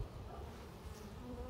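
Many honeybees hum at the hive in a dense, steady drone, close and continuous with no pauses.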